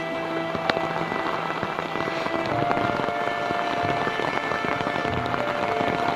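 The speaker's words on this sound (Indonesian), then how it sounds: "Berhubung hujan masih lebat dan sepertinya masih cukup lama hujannya" Heavy rain pours down steadily at a rural garden in Banjarnegara, a dense, loud hiss of drops striking surfaces with scattered sharper patters and ticks, continuous throughout with no speech.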